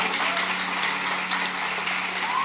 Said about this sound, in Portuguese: eu queria que a igreja aplaudisse Jesus pela vida da Paola